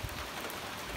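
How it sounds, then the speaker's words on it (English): Steady rain pouring in Vancouver, Canada on the first day of autumn, a dense continuous hiss that fills the whole moment, loud and even with no talking. "here in Vancouver, Canada, it's raining, it's pouring"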